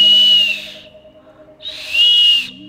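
Two bursts of a shrill, breathy whistle from a double clay whistle, with a low tone beneath, separated by a quieter pause; loud and close.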